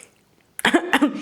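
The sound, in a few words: cough after tasting candied fruit paste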